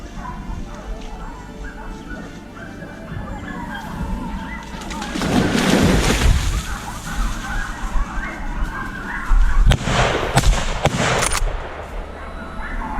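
A rifle shot fired at a wild boar during a hunt rings out in an outdoor setting among birdsong, with a sharp loud report and rumbling echo, followed by a second burst of noise.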